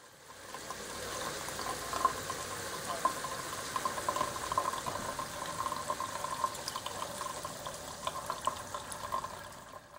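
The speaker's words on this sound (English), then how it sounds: "let's get the counterflow working with some cold water running through it" Cold water runs steadily through a counterflow wort chiller in a home-brewing setup, a continuous close gurgling flow with small bubbly spatters and drips over ten seconds, no voices.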